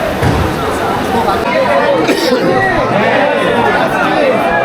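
Busy crowd at a temple in Mathura, a dense babble of many voices with nearby talk on top, loud and constant.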